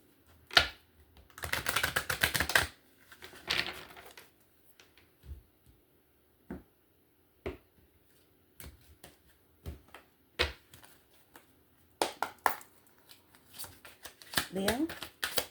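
Tarot cards being shuffled by hand: several separate bursts of quick riffling and slapping, close and crisp, with quiet gaps between the shuffles.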